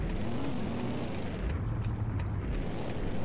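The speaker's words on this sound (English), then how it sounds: "And that car is loud" A loud car drives close by with a steady heavy engine roar and rising revs partway through, alone with no talk.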